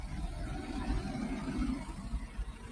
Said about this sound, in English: It's a noisy old truck